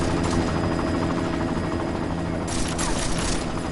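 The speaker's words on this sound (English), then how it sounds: "You've got to stop that chopper." A helicopter in the video game Deus Ex roars continuously and close, a dense loud rotor and engine wash with bursts of gunfire mixed in throughout.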